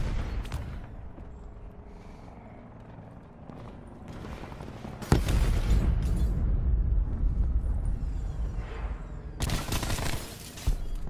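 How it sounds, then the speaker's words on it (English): Gunfire and explosions in a Call of Duty match: after a quieter stretch, a sudden sharp blast opens into sustained loud rumbling and rattling fire, with another hard burst near the end. "He's shooting at you from up top."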